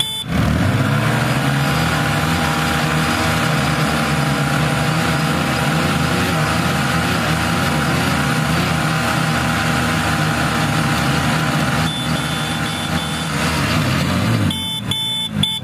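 Two Apache motorcycles roar steadily at high revs, straining against another bike in a tug-of-war in mud. The loud, continuous engine drone runs for about fifteen seconds and ends with a brief break near the close.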